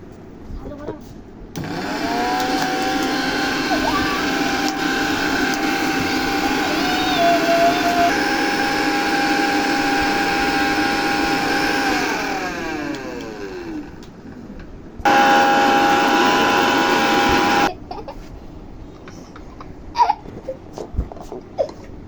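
A blender whipping up homemade mayonnaise runs loud and steady with a whining motor pitch that shifts as the mixture thickens, stops briefly, then restarts for a short burst before cutting off, with a voice talking faintly around it.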